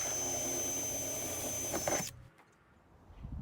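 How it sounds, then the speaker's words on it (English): A power drill whirs steadily for about two seconds drilling through the aluminum wall of a cargo trailer, then cuts off abruptly, leaving faint room noise and a soft clatter. "it's really easy to drill through this because it's just an aluminum trailer"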